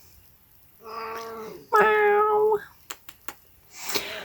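A cat meows at home, two drawn-out wavering cries in quick succession, close and fairly loud, followed by a few faint taps and a brief word from a person.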